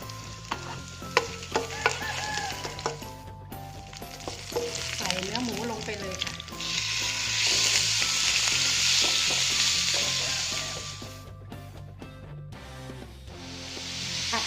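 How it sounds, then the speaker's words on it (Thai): Garlic sizzling in a little oil in a pan during a Thai pork curry-powder stir-fry, a steady frying hiss that swells louder midway, with scattered clinks of stirring; a voice speaks faintly in places. "ใส่น้ำมันไปเล็กน้อยนะคะ ใส่กระเทียมลงไปเจียวเลยค่ะ"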